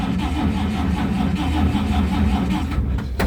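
An original 1951 Chevy 3100 pickup engine runs with a little throttle, a close, rough low rumble that rises slightly midway, then a brief sharp knock near the end.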